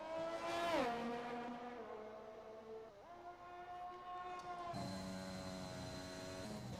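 Racing-car engines howl on the Circuit of the Americas track in an F1 racing game, with a steady high whine that drops sharply at downshifts near one, three and almost five seconds before climbing again.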